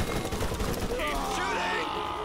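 Gunfire in the Borderlands video game, rapid bursts of shots and automatic fire rattling through a loud, busy battle mix, with a voice talking over it.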